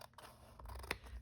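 Scissors snip through junk mail paper in a single crisp cut, with faint rustling of the paper around it, close and quiet.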